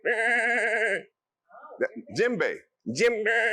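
A person's voice imitates a goat bleating, with two long wavering bleats at the start and end and short speech-like vocal bursts between them, loud and close.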